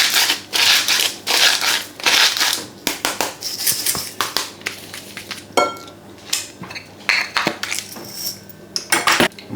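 Chicken is tossed with peri seasoning in a bowl, giving loud, close scraping and clinking of a utensil against the dish. Uneven strokes and rattles repeat throughout, with no voices.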